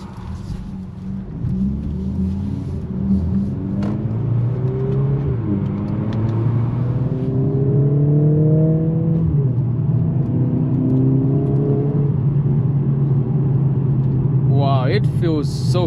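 A Mercedes-AMG CLA 45 S Coupe engine pulls hard from inside the cabin, rising through several revving gear sweeps with a steady road rumble beneath, and a voice talks over it briefly near the end.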